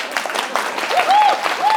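An audience at a psychology lecture breaks into lively clapping, with a voice speaking over the applause partway through.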